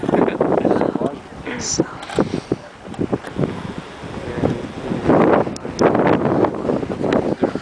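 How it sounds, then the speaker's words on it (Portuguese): Strong gusts of wind buffet the microphone high on Pico da Bandeira mountain, rising and falling in rough bursts, with voices partly buried under the roar. "esse vento tá mais aqui, né?"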